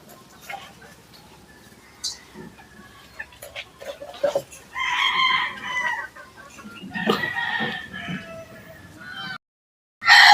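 Chickens cluck and a rooster crows intermittently nearby, with scattered rustling and clicks in a quiet outdoor setting.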